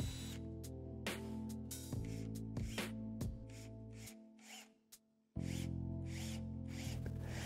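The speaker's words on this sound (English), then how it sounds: "Pre-drilling and countersinking next." A power drill pre-drills and countersinks holes in wood during a router table build. It runs in a steady whine broken by short bit-biting bursts, cuts out for about a second, then spins back up close by.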